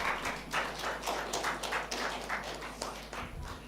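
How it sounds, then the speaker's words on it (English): Irregular, fairly light clapping from a small audience at a pharmacy research methodology workshop, with uneven bursts lasting a few seconds. "Big round of applause, everybody."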